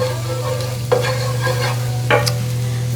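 Garlic hits a hot pan for Korean japchae, giving a steady close sizzle with two brief louder scrapes of stirring, no voices.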